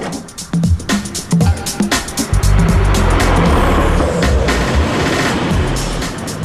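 A 1990s family car drives along, its loud, close engine rumble and road noise running steadily with rattling clatter throughout and no talking.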